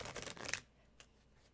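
Tarot cards are shuffled in a quick riffling burst, followed by a single soft flick. The sound is close and quiet, with no talking over it.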